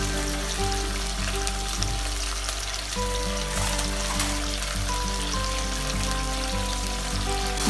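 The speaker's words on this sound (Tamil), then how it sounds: "பூண்டு அதுக்கப்புறம் தக்காளி சேர்த்துக்கோங்க. இதை வச்சு நல்லா தாளிச்சுக்கோங்க." Garlic and tomato tempering in hot oil for tomato dal, giving a dense, continuous loud sizzle and crackle close by, steady from start to end with no talking.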